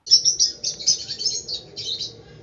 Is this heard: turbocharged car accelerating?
no